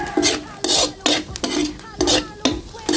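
Garlic and onion sauté in a pan for bihon, heard as rhythmic close scraping strokes of a spatula, about seven in three seconds, over a light sizzle.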